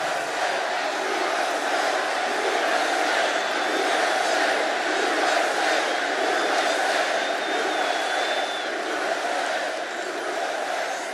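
Large crowd at a Donald Trump campaign rally in Allentown, Pennsylvania, roaring and cheering in a steady, dense wash of voices that stays loud throughout.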